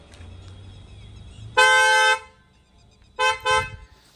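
An original Hyundai Creta horn fitted to a Maruti Suzuki Baleno sounds in one long, loud, bright blast of about half a second, followed after a pause by two shorter close blasts, near and clear with no talk.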